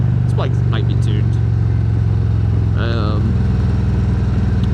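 A 2020 Harley-Davidson Road Glide Special rumbles steadily under throttle, its low V-twin beat close and constant beneath a rider talking over it.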